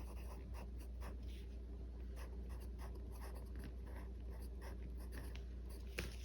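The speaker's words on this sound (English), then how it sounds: "I'll write down the Osborne page here" A pen writes on a paper homeschool schedule, with quick faint scratching strokes in short bursts over a low steady background hum and no talking.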